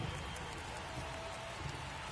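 Steady rain hiss in a MLB The Show baseball game, a dense, even wash of falling rain holding at a constant moderate level throughout, with no voices.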